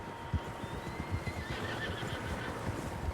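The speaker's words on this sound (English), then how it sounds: "Horses, quite a few of them." Several horses neigh and whinny in Red Dead Redemption 2, their calls coming over soft hoof clops and low ambient wind, fairly distant and without speech.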